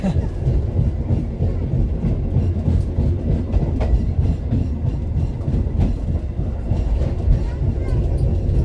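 Inside a passenger train carriage toward the rear of the train in Java, a loud, steady rumble of wheels on rails with faint rhythmic clicks, and voices talking underneath.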